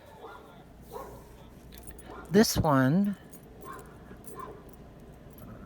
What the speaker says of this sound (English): there's a barking dog out there